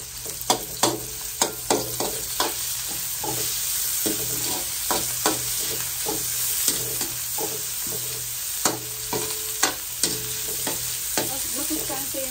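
Telescopic snails with vegetables cook in a pan with coconut milk and lemongrass, a constant sizzle broken by repeated sharp scraping and clinking strokes of a utensil at an irregular, fairly quick rhythm, near and clear.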